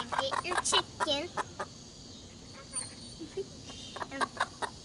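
Chickens being readied for a county chicken show cluck in short repeated bursts near the microphone, with a person talking intermittently between the calls.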